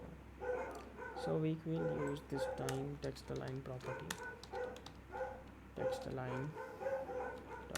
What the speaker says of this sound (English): I think you can hear the dogs barking.